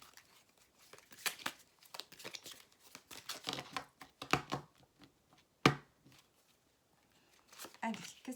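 Tarot cards handled for a reading, with irregular papery shuffles, flicks and crinkles and one sharp slap of a card, close and fairly quiet.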